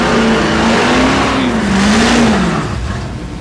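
A race car at Thunder Valley in Noble, Oklahoma, roars past close and loud. A sustained engine drone wavers in pitch as it revs, then eases slightly toward the end.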